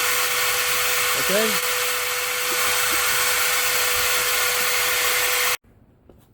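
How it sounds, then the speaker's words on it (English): A powerful electric drill runs with a steady whining drone while bored into a concrete slab to inject Termidor or Tauros termiticide. It holds loud and continuous under brief talk, then cuts off abruptly near the end. "we're using a powerful electrical drill"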